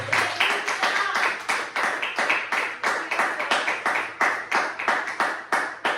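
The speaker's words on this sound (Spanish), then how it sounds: "Denle un fuerte aplauso si se lo van a dar a Dios Todopoderoso" A church congregation claps together in a steady, rhythmic beat, each clap sharp and close, filling the space with a lively unison pulse and no talking over it.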